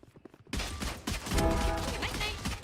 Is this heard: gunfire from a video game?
yes